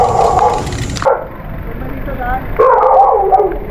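A dog yips and barks along a gravel road during a long-distance gravel bike ride, the sharp calls coming in short bursts over wind and riding noise while people talk.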